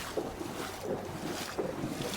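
Strong gusts buffet the microphone on an exposed concrete path beside flood water during big tides at Potter Heigham, a loud continuous rumbling roar with surging peaks and no talking.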